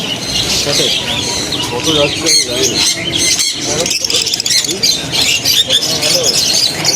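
Pet birds at a bird market, including year-and-a-half-old pairs and blue and yellow birds, squawk and chirp continuously and loudly in a busy chorus, with someone talking over them throughout.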